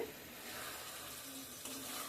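Spice masala fries in oil in a pan of taro greens cooked with hilsa fish head, the water boiled off; a faint, steady sizzle with soft stirring continues throughout.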